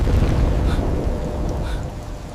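Steady rain with low rumbling thunder rolling beneath it on a cold, stormy night, a continuous dense wash of sound with no voices.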